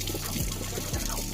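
Water runs steadily from hot water taps while an A.O. Smith water heater refills after draining, a continuous close, even trickle and flow with a low hum beneath it and no talk.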